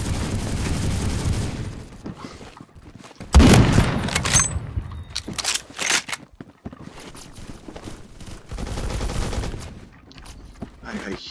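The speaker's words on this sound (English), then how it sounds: "I hear shots and I feel it." Gunfire in a shotgun-focused shooter video game, with bursts of shots and booms rising over a steady din of game noise, including a loud cluster of blasts near the middle.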